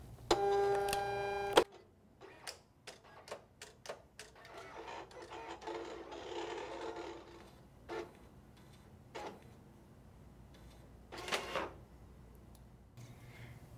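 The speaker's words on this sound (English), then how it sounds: "have the machine feed that in" A Silhouette Cameo 4 cutting machine feeds vinyl through its rollers. A brief tonal electronic sound opens, then intermittent mechanical clicks and soft motor whirring follow at close range.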